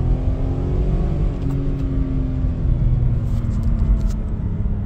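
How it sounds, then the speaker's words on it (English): A Toyota 3-liter engine pulls at wide open throttle in low gear, a loud, continuous droning rumble with a slowly climbing pitch as revs rise toward 4,000 RPM, heard from inside the car without talk. "So here's our wide open throttle pull."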